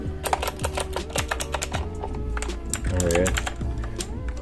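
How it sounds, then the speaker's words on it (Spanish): A noisy gaming keyboard from a Free Wolf K5 unboxing clatters under rapid typing, a dense string of sharp, close key clicks over a low hum, with a person speaking briefly. "es un teclado como cualquier otro, hace ruido. Es de esos teclados ruidosos"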